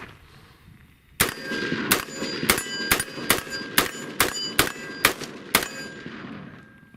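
A rapid string of about ten sharp gunshots from a 10.5 inch AR pistol, loud and close, each with a metallic ring of a hit steel target trailing after, firing at a steady quick pace.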